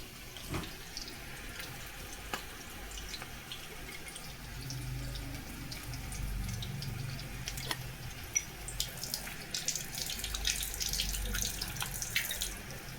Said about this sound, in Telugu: చూసారు కదండి ఎలా ఉన్నాయో, గలగలలాడుతున్నాయండి చక్కగా.